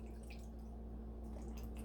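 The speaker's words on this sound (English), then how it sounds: "I'm going to go ahead and pour the Mojo sauce" Mojo sauce is poured over raw shrimp, making a faint, soft liquid trickle with light dripping splashes against a steady low hum.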